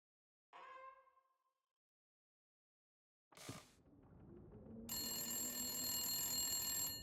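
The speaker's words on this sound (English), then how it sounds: "Phone's ringing." A telephone rings in The Long Dark survival video game, a steady sustained electronic ring that starts after a brief thump and continues to the end, fairly quiet overall.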